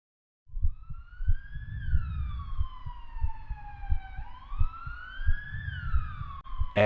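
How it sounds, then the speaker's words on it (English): An ambulance siren wails in a continuous rising and falling sweep, loud and close, with a steady pulsing thump like a heartbeat underneath throughout. "the ambulance arrived, but it was too late."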